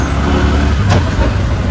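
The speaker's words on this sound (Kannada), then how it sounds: "ಟ್ರಾಫಿಕ್ ಸಹ ಹಾಗೆ ಉಂಟು" Road traffic on a busy Mumbai street lined with food stalls, a steady close engine drone with a brief hiss midway, no voices.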